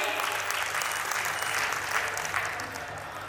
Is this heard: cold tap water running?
no